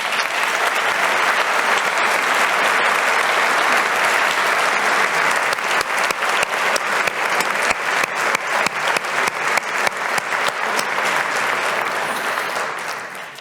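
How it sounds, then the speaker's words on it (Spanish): Sustained, dense applause from a large audience at a family business awards ceremony in Aragón, steady and loud throughout before tapering off at the very end. "Y querría dedicarles, si os parece bien, un fuerte aplauso"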